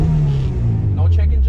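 A car engine idles at about 900 rpm with a low, steady rumble, loud and close, with slight fluctuations in tone.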